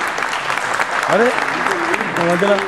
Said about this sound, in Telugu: ఘనమైన చప్పట్లతో మనం అభినందిస్తాం.